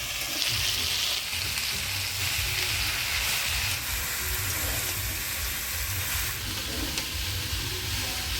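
Cabbage frying with spices in a pan, a dense, steady sizzle and hiss with faint stirring scrapes, close and continuous.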